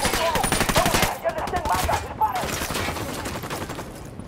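Rapid automatic gunfire bursts from the video game Ghost Recon Wildlands, dense and loud for the first couple of seconds, then thinning into scattered shots, with a voice speaking over the shooting.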